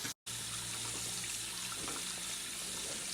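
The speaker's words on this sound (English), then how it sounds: "That's my dishwasher going off" A home dishwasher runs with a steady wash of spraying and splashing water, continuous and moderately close, with a brief cutout near the start and a low hum underneath.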